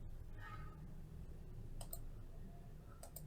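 Computer mouse clicks while selecting an add button in point-of-sale software, two or three crisp close clicks over a faint background hum.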